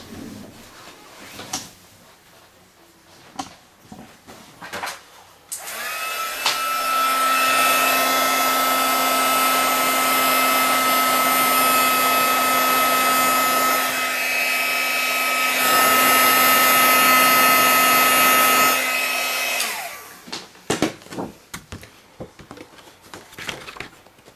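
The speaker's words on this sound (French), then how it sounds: "je viens réchauffer les couleurs que j'ai mis" A heat tool blows steadily for about fourteen seconds while warming Stampin' Up pastel colours on paper, a loud continuous whirring hiss with a steady tone, preceded and followed by small handling clicks.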